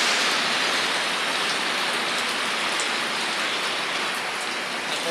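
Heavy rain pours down steadily and loudly, a dense continuous hiss of drops hitting surfaces with no letup.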